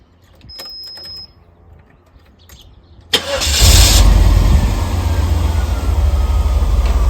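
Guanci SSJ prototype car, a Corvette rival, cranks briefly with faint clicks before the engine catches with a loud burst and settles into a steady, close, rumbling idle, with no talking.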